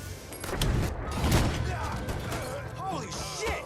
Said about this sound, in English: Fucking grenade!